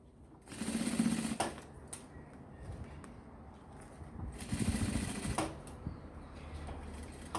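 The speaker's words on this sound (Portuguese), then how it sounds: "E vamos seguir costurando." A sewing machine stitches bias binding onto a fabric roll-up pencil case or necessaire. Two loud bursts of steady, rapid stitching are separated by a quieter pause of handling noise, heard up close with no talking.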